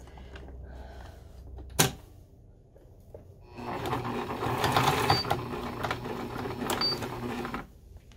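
A sewing machine stitches in the ditch along a seam while making a pressing ham and sausage roll. A sharp knock comes first, then a steady mechanical run of stitching lasts several seconds before stopping.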